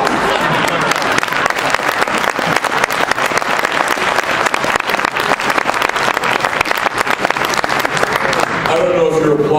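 Audience applauding at a bishop's consecration banquet, dense sustained clapping from a large crowd that fades near the end as a voice begins.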